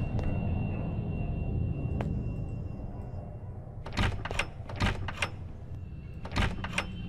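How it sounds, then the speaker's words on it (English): Something unlocks in the horror video game Araya: a muffled mechanical clunk over a low ambient rumble, then a burst of sharp metallic clicks and clacks, moderately loud. "I heard something unlock."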